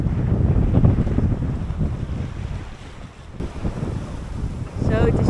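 Strong wind on a sailboat at sea, a loud, continuous roar buffeting the microphone, with rushing water beneath that rises and falls in gusts throughout.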